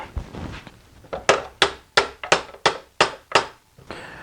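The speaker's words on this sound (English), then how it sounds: "I just knocked it down with a hammer" A hammer knocking a small sleeve out of a used junkyard alternator for a 2001 Nissan Altima: about eight sharp metallic blows at a steady, even pace, each ringing briefly, close and loud.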